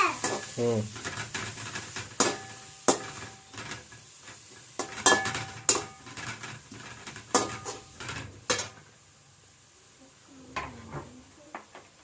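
Egg fried rice being stirred in a pan with a metal spatula: repeated scraping and clanking strikes against the pan, close up, with someone talking at times and a faint sizzle underneath.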